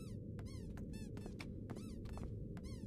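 In the video game Broken Sword 4, a squeaky dog toy gives about seven quick, high rising-and-falling squeaks in an irregular rhythm over a low, constant background hum.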